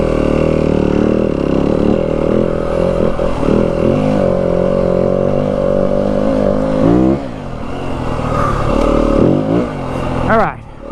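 A 2025 Yamaha WR250F dirt bike engine revs hard and loud while climbing a steep, rutted mountain trail with snow in the Dragoon Mountains near Pearce, Arizona, the tone rising and falling as the rear wheel loses traction, with a brief drop near the end.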